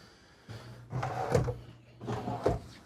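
A full-extension drawer in a 2023 Newmar New Aire 3547 motorhome slides open and shut on its glides, giving two distinct rolling, thudding strokes close by with no talking.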